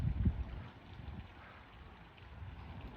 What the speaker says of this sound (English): Right now the wind is blowing